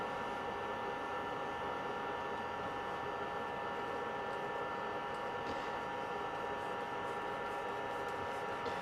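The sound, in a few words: threaded insert being screwed into a handle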